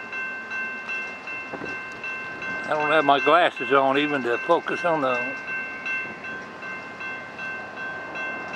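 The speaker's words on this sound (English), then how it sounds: "Got a train coming by." A train passes by at Bunch, a steady broadband rumble running the whole length with someone talking close over it in the middle.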